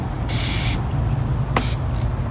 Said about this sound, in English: So I'm going to go ahead and spray a little bit of lubricant in here.